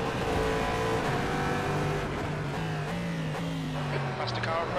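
Race car engines in the sim racing game rFactor 2 during an endurance race at Slovakiaring, a loud sustained drone with rising and falling engine pitch as gears shift, with another car approaching and passing close by.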